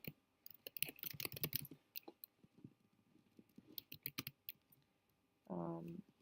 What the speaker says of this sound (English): this is where you're going to type your first and last name.